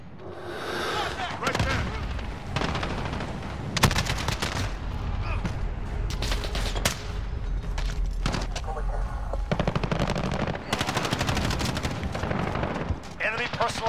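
Dense bursts of automatic gunfire and explosions in Call of Duty: Modern Warfare multiplayer, rattling almost constantly and loudly while a player speaks briefly.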